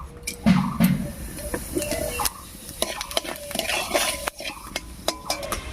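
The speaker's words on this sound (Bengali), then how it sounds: "এবারে তেলের মধ্যে দেবো গোটা জিরা গরম মশলা আর তেজপাতা" Whole cumin, garam masala and bay leaf go into hot mustard oil for tempering, giving a soft sizzle as a spoon stirs and clinks against the metal pan, with no talking.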